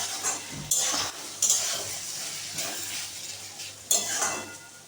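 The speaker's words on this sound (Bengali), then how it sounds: "ভালো করে নাড়িয়ে নেব।" Banana flower curry with a little sugar added is stirred in a pan, giving several distinct scraping strokes of a utensil against metal over a low simmering sizzle, close and without talk.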